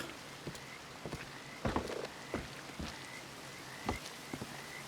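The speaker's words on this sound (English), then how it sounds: "Now that I'm up here, way up top, I can hear a lot of frogs." Scattered frog croaks and chirps over a steady patter of rain in the video game Red Dead Redemption 2, with a few sharper drips and taps close by.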